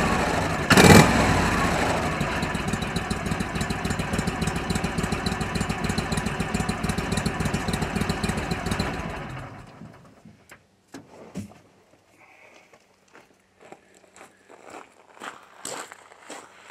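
An Argo Conquest 8x8's engine runs at a steady idle for about nine seconds, then cuts off, leaving faint clicks and handling noises.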